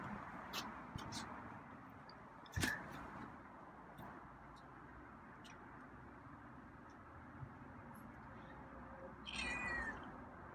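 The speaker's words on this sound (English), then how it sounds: "So he meowed." A feral cat gives a few short meows, one a brief high cry near the start and a softer drawn-out one near the end, over quiet room noise.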